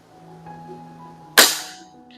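A single sharp shot from a .25 caliber Theoben Eliminator air rifle with an adjustable ram, a loud close crack that decays over about half a second after a quiet room hum.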